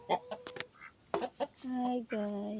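Ducks in their pen give short, raspy quacks and calls in quick bursts, close by and fairly quiet, with a voice speaking among them.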